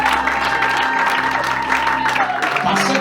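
Wedding guests clap together in a church hall at the Agora center in Lewiston, Maine, a steady wash of applause under a sustained musical tone and a few voices, fading slightly toward the end.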